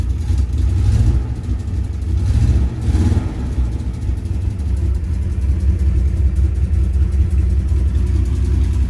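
A 1967 Chevy engine with exhaust leaks rumbles close by, swelling in a couple of quick revs early on before settling back to a rough, throbbing idle.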